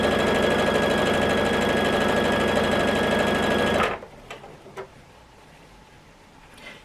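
A sewing machine stitching a jelly roll quilt strip set runs in a loud, steady whirring stream for about four seconds, then stops, leaving a quiet room with a few faint clicks.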